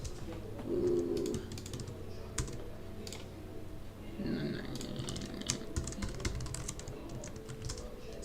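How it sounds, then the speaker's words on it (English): Keys clatter on a computer keyboard in quick irregular bursts of soft clicks, close and fairly quiet, continuing steadily for several seconds with a faint low room hum beneath. "Sorry for all the typing."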